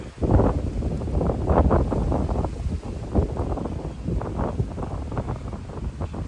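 Wind gusts repeatedly thump and rumble against the microphone outdoors beside a beehive, loud and irregular, over a faint outdoor hiss.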